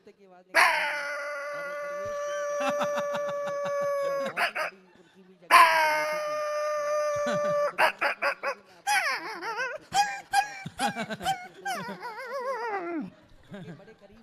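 A man imitates a stray street dog with his voice, giving two long, drawn-out howls followed by a string of shorter, wavering yelps and whimpers, close and clear with brief pauses between them.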